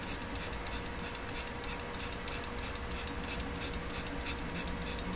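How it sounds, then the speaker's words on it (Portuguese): The back of a utility knife blade scrapes a material into fine powder in quick, regular rasping strokes, close and fairly soft, with no talking. "Eu utilizo as costas do estilete aqui para raspar um pouco."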